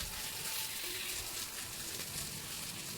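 Okra and shrimp fry in hot oil with a soft, steady sizzle and hiss throughout, faint and close.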